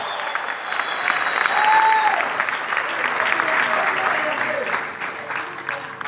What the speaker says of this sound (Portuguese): Vamos recebê-lo com uma salva de palmas